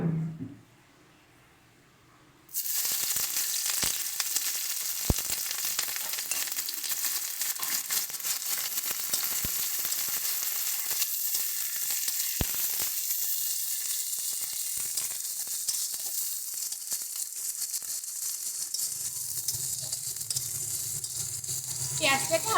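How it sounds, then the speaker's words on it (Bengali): Chopped onions hit hot oil and start a loud, steady sizzle that carries on for about twenty seconds, with a few sharp clinks of a utensil. The clip opens with a moment of near silence. "পেঁয়াজটাকে হালকা করে একটু লাল লাল করে ভেজে নেব।"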